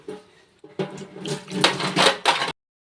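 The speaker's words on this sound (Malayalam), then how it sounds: "ഇനി ഇവിടെ കുറേ പാത്രം ഉണ്ട്, അതൊക്കെ കഴുകണം." Running tap water splashing at a home kitchen sink as dishes and pots are washed, with clinks of utensils in a short, close, fairly loud burst that cuts off abruptly.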